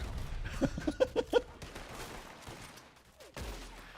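Gunfire in the video game Red Dead Redemption: a quick burst of about five sharp shots in rapid succession, followed by a quieter stretch and a final muffled thump, heard without talking.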